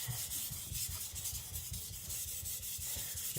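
A Tojiro Shirogami nakiri knife stroked back and forth on a whetstone, a soft, close, rhythmic rubbing with repeated short grinding strokes and no voices.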